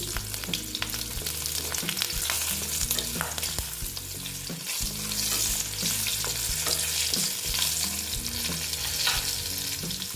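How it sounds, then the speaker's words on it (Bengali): Garlic and black cumin seeds fry in oil in a pan for a spicy radish dish, a loud, constant sizzle with repeated stirring scrapes and a low steady hum underneath. "তারপরে দিলাম রসুন দিয়ে একটু ভেজে দিচ্ছি"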